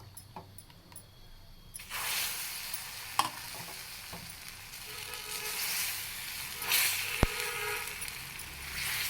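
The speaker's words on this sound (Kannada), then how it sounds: "ಈಗ ದೋಸೆ ಹಾಕೋದು ತೋರಿಸ್ತೀನಿ" Sprouted moong dosa batter spreads onto a hot pan, with a faint scrape followed by a rising, steady sizzle that carries on, punctuated by a couple of light clicks.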